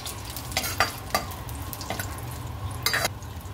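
A handful of almonds, cashews and raisins fry in hot ghee with a soft, steady sizzle, punctuated by several sharp clinks and scrapes of a spoon stirring in the pan.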